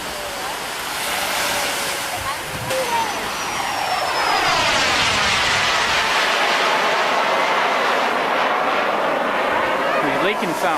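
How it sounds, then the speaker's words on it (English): Jet roar from the Bud Light Microjet, the world's smallest jet, builds and sweeps past at an air show, a loud rushing whine that rises and fills the scene while spectators chatter. "That's a microjet. That's the world's smallest jet."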